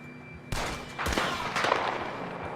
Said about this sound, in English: the stunning crack of a gunshot hollowing from a mountaintop